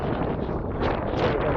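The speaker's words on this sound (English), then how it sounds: "it's windy out here" Strong outdoor wind buffets the microphone, a dense, continuous roar with gusts that swell and fade, close and loud, with no voices.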